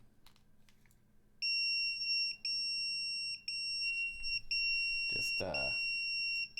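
Electronic pager alarm beeping in a high, piercing repeated pattern of short tones with brief gaps, loud and close, with a person briefly talking near the end.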